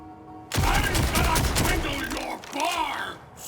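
Legendary Daedalus gun in Borderlands 4 firing in SMG mode, a dense loud burst of rapid gunfire lasting a few seconds with a brief pause before a second burst, close and dominant.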